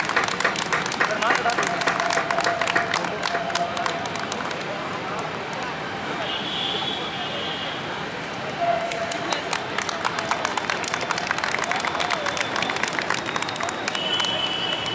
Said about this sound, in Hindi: और तालियां बजती रहनी चाहिए